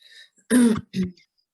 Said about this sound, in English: And you just coughed as I said it.